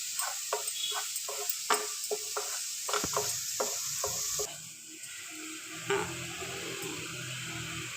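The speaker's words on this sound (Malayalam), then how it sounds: "ഇത് നല്ലപോലെ ഒന്ന് വഴണ്ട് വരട്ടെ" Sliced onions for an okra curry sauté in a pan, a soft sizzle broken by a quick series of spatula taps and scrapes, then a quieter steady frying hiss, with no voices.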